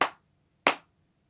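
Two sharp hand claps from the cup song rhythm, spaced about two-thirds of a second apart, crisp and close against a quiet background.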